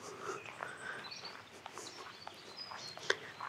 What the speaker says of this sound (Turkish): Kuş sesleri burada tamamen kaplamış durumda.